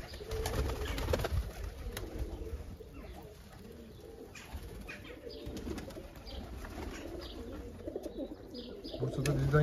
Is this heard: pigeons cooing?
yes